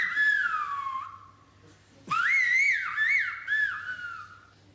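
Loud, clear whistled Spanish phrases in a whistled language, gliding pitch contours, two main bursts separated by a short pause, no talking.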